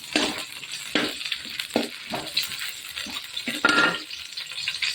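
Tomatoes frying in about a tablespoon of oil in a pan while being stirred for Tamil tomato sambar, steady close sizzle broken by repeated scraping stirs, no talk.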